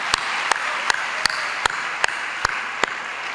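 A Korean church congregation at a 2004 world mission conference claps in unison, sharp even beats about every 0.4 seconds over a background wash of crowd noise.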